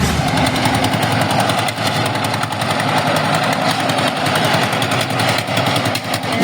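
A corn threshing and shelling machine with double sieves runs continuously, a dense mechanical roar with rattling, fast vibration and engine drone at steady loudness throughout, no pauses.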